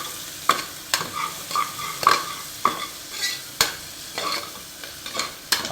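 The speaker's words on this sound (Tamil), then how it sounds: "நல்லா ஃபுல்லாக வதக்கிட்டுருக்கோம் ஃப்ரெண்ட்ஸ்." Onions sautéing in a pan for chicken biryani, a steady sizzle broken by sharp scrapes and clacks of a spoon stirring about once a second, close by with no one talking.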